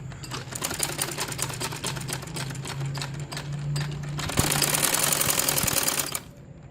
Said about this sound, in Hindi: जिस शेप का ये है मैं उसी शेप में इसको सिलाई लगा रही हूँ।